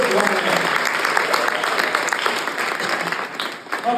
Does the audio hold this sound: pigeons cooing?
no